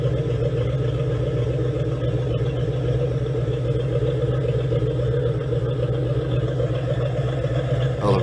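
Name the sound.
Chevrolet Impala newer V8 engine running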